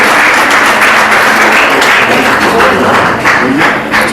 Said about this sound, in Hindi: एक जोरदार तालियां हो जाए हमारे बच्चों के लिए।